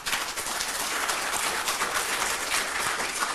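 An audience at a Korean lecture gathering claps in a dense, steady wash of applause that stays loud and even from start to finish, with no voices over it.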